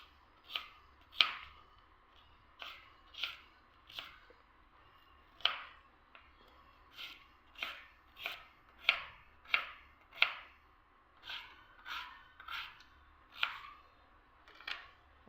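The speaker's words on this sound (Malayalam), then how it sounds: "പിന്നെ ഈ ഒരു ഉള്ളി നമുക്ക് ചെറുങ്ങനെ അരിഞ്ഞിട്ട് ഇടാം" A knife finely chops an onion for bitter gourd (pavakka) theeyal, giving crisp, irregular taps on a board: quiet, close, in short uneven bursts with pauses between, no talking.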